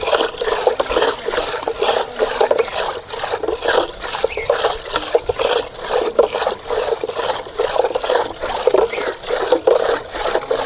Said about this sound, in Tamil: தண்ணி ஊற்றுட்டாயா? ஊற்று, கொஞ்சம் ஊற்று.